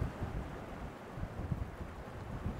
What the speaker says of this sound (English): That wind's much stronger than it was forecast.